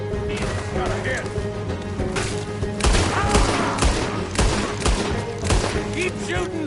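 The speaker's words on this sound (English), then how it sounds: "Keep shooting. Don't give up on me now." Heavy gunfire in a Red Dead Redemption 2 shootout, loud repeated shots and impacts in irregular volleys over a constant game soundscape, with voices talking through it.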